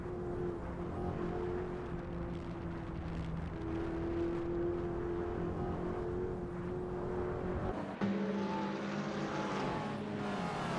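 Several racing car engines from a supercar racing video game, including a Lotus, drone steadily with sustained tonal whine and shifting pitch, with a sharp change in the mix near the end.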